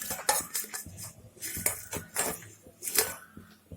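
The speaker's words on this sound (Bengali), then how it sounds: "গরম জলে আমি শুটকি মাছগুলো দিয়ে দিব।" Dried fish tipped into a pot of hot water for a cabbage curry, with several clattering knocks and clinks of metal pot and utensils at close range and no talk.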